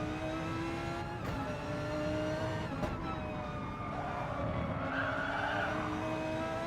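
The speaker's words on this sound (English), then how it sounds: "Driving the Audi, and it's a tough one to drive." An Audi race car in the GT Sport racing game holds a steady, droning engine note while tires squeal and skid through corners, with a brief rise in revs partway through.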